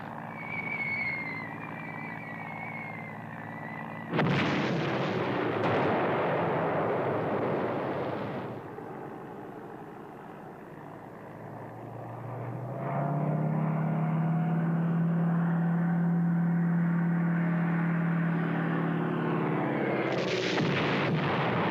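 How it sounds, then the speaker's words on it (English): Aerial bombing attack on the German battleship Ostfriesland, with loud booming explosions and rumbling blasts over a sustained aircraft engine drone that swells toward the end, with no talking. "After the first round of bombing, damage assessment parties surveyed the Ostfriesland."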